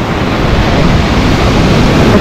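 Loud, continuous rush of Black Sea waves breaking on breakwaters at a beach in Lazarevskoye, Sochi, in December, a dense wash of surf noise with some wind buffeting the microphone.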